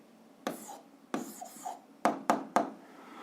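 Several short scratchy pen strokes as an answer to a physics problem gets written down, quiet and close, each a quick rasp followed by a pause.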